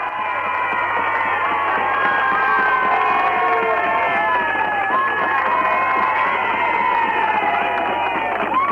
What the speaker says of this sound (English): a Manx politician's name being chanted by a Manx crowd